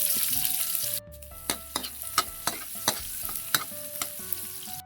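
Garlic and onion sauté in hot cooking oil, a steady sizzle broken by repeated sharp scrapes and taps of a spatula stirring the pan, close and clear with no talking.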